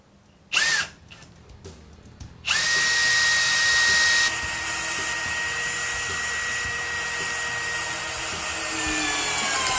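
A brushless Makita or DeWALT cordless screwdriver drives an 18 cm screw, opening with a couple of short trigger bursts, then a loud sustained whine under load that eases slightly and keeps running to the end.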